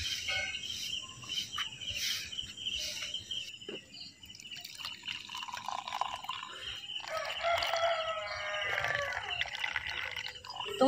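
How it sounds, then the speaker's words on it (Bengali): A village rooster crows at dawn, its call rising midway amid a bed of chirping insects and faint dripping water, with no talk. "মোরগটা সবসময় ডেকে যায়, 4টে বাজলে ওরা ঠিক অ্যালার্ম দেবে"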